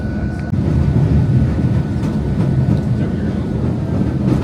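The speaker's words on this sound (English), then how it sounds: "We had to take a whatever train" An airport terminal train rolling along, a steady low rumble with soft rhythmic rattling throughout, heard from inside the car with no talk.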